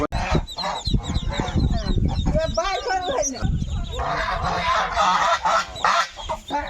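Native ducklings honk and cackle loudly nearby in a busy, overlapping chorus, mixed with people talking in the background.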